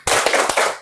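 Short burst of spirited group clapping by schoolchildren in a classroom, a few quick sharp claps in a tight rhythmic cluster, loud and close.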